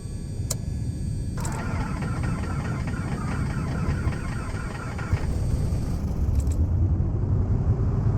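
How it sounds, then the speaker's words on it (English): Right engine of a piston twin aircraft cranking and starting in Microsoft Flight Simulator 2024, a steady low rumble that catches after about a second and settles into a continuous idle, with a short whine near the end. "we'll attempt to start the right engine"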